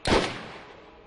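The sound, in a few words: sniper rifle gunshots in the video game Borderlands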